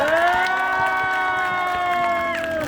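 Street busking show in Hongdae, Seoul: a crowd cheers and claps close by, with shouts and whoops over a sustained held tone from the performance that fades near the end.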